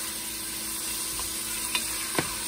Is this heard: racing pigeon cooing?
no